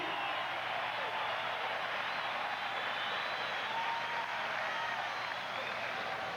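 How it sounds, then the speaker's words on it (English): Basketball arena crowd applauding and cheering during a Celtics lead over the Bulls in a 1980s playoff game, a steady dense roar of clapping and voices filling the whole stretch without a break. "The crowd is up, and so are the Celtics by 11."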